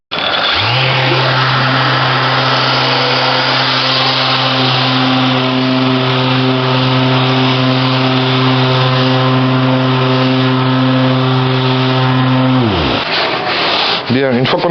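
A power sander works steadily on a repaired plastic car bumper, a loud continuous whine with a humming drone that runs for about twelve seconds before winding down at the end.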